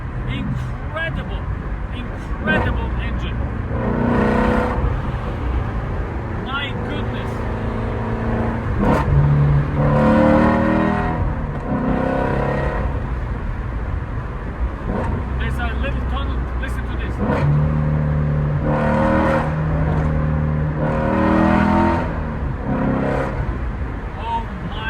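A Lamborghini Aventador SVJ engine revs and pulls hard through repeated climbs in pitch, roaring up and easing off, with someone talking over it.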